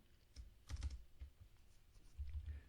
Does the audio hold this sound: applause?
no